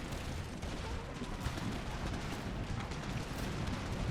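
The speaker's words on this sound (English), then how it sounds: "And the artillery firing on them. Cannons are hitting them." Artillery cannons fire during a battle in the strategy game Empire: Total War, producing dense, continuous rumbling booms and volleys that stay loud throughout.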